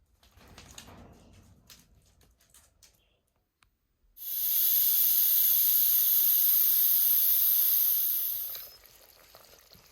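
A pressure cooker cooking beef short rib stew vents a loud, steady jet of hissing steam that starts abruptly midway, holds for several seconds, then tapers off, preceded by quiet kitchen clatter.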